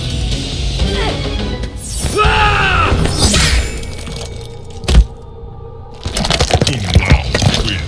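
A Mortal Kombat XL fatality finishing move on the Raven costume skin plays out with a burst of shattering, cracking and crunching impacts, groaning swells and a sharp thud midway, loud and chaotic against game music.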